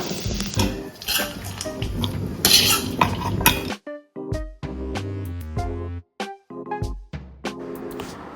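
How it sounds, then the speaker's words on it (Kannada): Onions and garlic frying with ridge gourd in a pan: a steady sizzle under stirring clatter, then several sharp, ringing utensil knocks against the metal pan, close up with no talk. "ಫ್ರೈ ಮತ್ತು ಉಳ್ಳಾಗಡ್ಡಿ ಹಾಕಿ ಫ್ರೈ ಮಾಡಬೇಕಾ"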